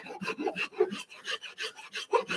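A Japanese hand file is pushed across wood while shaping, giving a quick rhythmic series of close, dry rasping strokes, about a dozen in just over two seconds, with no talk.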